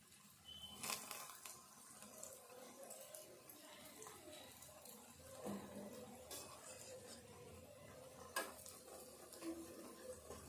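Pieces for a fish-style curry fry in a pan, a low, steady sizzle broken by scattered scrapes and clinks of a spatula against the metal, fairly quiet throughout.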